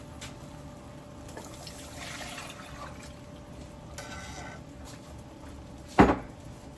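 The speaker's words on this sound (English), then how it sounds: "we're gonna add our milk in." Milk is poured into a thickening roasted garlic white mac and cheese sauce in a pot: a few soft, brief liquid trickles, then a sharp clunk of the container near the end. No one speaks.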